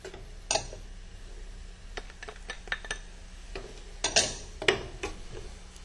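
A utensil stirring seasoned chicken with oregano and salt in a pan, scattered quiet metallic scrapes and clinks in an irregular rhythm, close but faint, with no voices.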